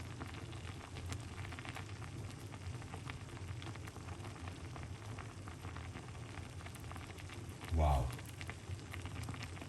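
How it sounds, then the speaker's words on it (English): Food simmering in a pot on a home stove, a steady soft bubbling and crackling bed throughout, with a brief louder burst near the end and a short spoken exclamation over it. "So we're just making it simmer down at the moment."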